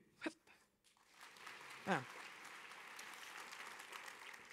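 Trial round of applause from an audience at the opening speeches of a conference day, a brief sharp burst followed by steady, moderately faint clapping that carries on to the end.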